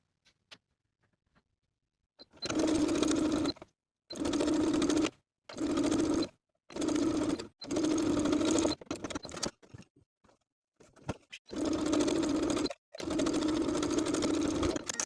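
A sewing machine understitches tee shirt armhole facings in a string of short, even bursts separated by quiet pauses, close and clear with no talking.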